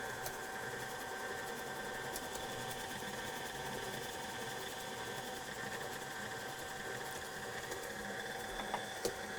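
An electric mixer beats orange slice cake batter until creamy, a faint, steady motor whir running continuously without pause.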